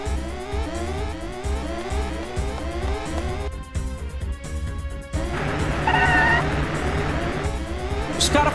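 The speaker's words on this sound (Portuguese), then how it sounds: "Os caras foram embora com os caminhões." Trucks drive off in Final Fantasy VIII at a missile base, with engine revving and tire noise under game music, the vehicle sound swelling louder in the second half.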